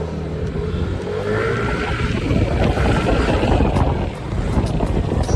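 A Yamaha NMAX scooter on a test ride after a bell groove fix, its engine droning under heavy rushing wind buffeting the microphone, steady and close with a brief dip near the end.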